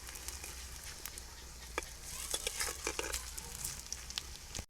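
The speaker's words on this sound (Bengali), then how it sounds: "বাকি পকোড়াগুলো এরকম উল্টে পাল্টে লাল লাল করে ভেজে নেব।" Onion-stalk pakoras sizzle quietly in hot oil as they are turned and fried until browned. A soft, steady hiss runs throughout, broken by scattered sharp pops and crackles, with no voices.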